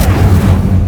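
A single short, loud, booming burst as the Incendio fire spell is cast in Hogwarts Legacy, heavy and low with no voices.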